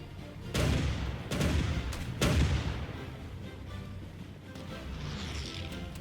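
Tanks attack a city in the strategy video game Hearts of Iron 4: a few loud, separate artillery-like booms with crashing decays, spaced about a second apart, then quieter distant rumbling.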